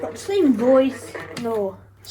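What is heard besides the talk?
None of the usual background noises is heard.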